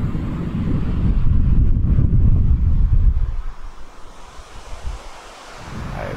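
Waves roll in on an island beach at Galix on the Côte-Nord, a loud, rumbling wash of surf mixed with wind buffeting the microphone, easing after a few seconds.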